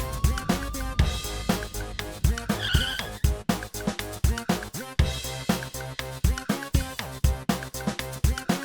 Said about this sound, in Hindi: गाड़ी वापस घुमाओ और जल्दी रंगीला ढाबा चलो